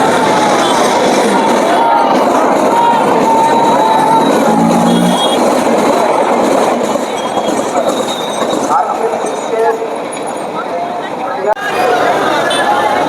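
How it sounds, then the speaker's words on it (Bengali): A train rumbles past close by, a steady loud roar of rattling wheels with faint metallic squeals and crowd noise underneath. "এখন ট্রেন দেখো এরকম যে ট্রেন যাচ্ছে"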